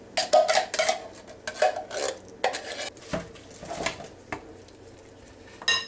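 Apple pie muffin batter stirred together in a bowl, with repeated close clinks and scrapes of a utensil against the dish in an uneven rhythm, and no talking.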